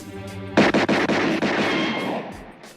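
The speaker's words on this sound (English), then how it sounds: "8 shots per second" Rapid gunshots from fast shooter Jerry McCulloch, about six sharp close cracks fired in a quick burst, then a ringing decay afterward.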